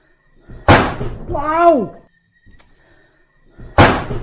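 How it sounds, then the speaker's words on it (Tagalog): A door suddenly slams shut with a loud, sharp bang, then a man's startled exclamation, a short quiet pause and a second heavy thud. "Pare, bigla sumara yung pinto."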